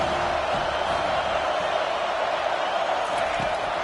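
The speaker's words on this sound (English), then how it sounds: "Decibels rising as the crowd gets behind this defense on third down." A packed football stadium crowd roars steadily on a third-down defensive stand, a dense, continuous wall of noise that stays loud throughout.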